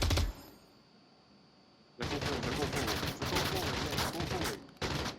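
Rapid bursts of gunfire from the Onward VR game crackle loudly in dense volleys after a brief quiet stretch, with a short pause before one more burst near the end.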